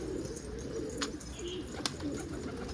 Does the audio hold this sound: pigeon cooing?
yes